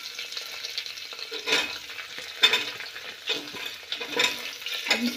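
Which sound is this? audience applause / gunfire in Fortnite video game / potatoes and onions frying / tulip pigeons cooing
potatoes and onions frying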